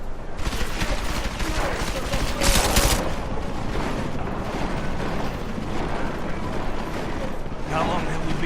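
Rapid gunfire from the video game Deus Ex: Mankind Divided rattles in dense bursts with a sharp blast partway through, loud and continuous, with speech mixed in.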